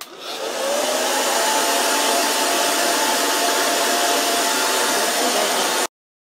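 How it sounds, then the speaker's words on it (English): A hair dryer blows steadily at close range, a loud continuous whooshing hum that runs for several seconds and then cuts off abruptly. "heat it up with a blow dryer"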